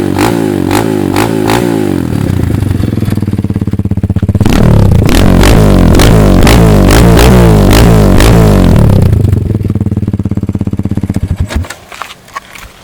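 The exhaust of a Kayo K1 motorcycle revs loudly up close, with a rough, bassy throb that rises and falls through several throttle blips before dropping back to idle and cutting off.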